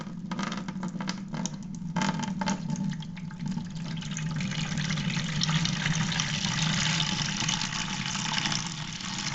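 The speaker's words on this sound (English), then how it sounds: "Pouring in 10 containers of Welch's grape juice." Welch's Concord grape juice pours steadily from containers into a wine fermenter, a continuous splashing gush over a low hum, with a few rattling knocks early on.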